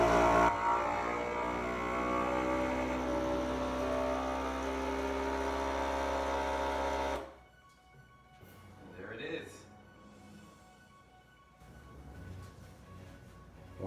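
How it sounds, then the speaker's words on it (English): A vacuum sealer set to moist draws air from a bag of liver, a steady loud motor whir that runs for about seven seconds and then cuts off, leaving quieter sealing sounds and speech. "Press vacuum and seal button, but let's put it on moist."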